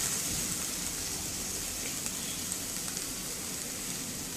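Chili paste sizzles in hot oil for a fish fingers dish, making a dense, constant, close frying hiss with faint crackles and no voices.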